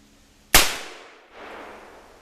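A single loud shot from a Colt 1873 single-action .44 cap and ball revolver fired at a blue jug about 35 yards away outdoors, a sharp crack with a decaying tail and a faint distant impact after.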